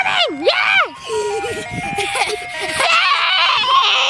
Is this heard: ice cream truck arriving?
yes